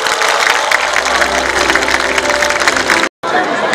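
An audience claps together at the opening ceremony of the 2023 Icheon Ceramics Festival, a dense, steady wash of applause lasting several seconds, then cut off by a brief silence before resuming.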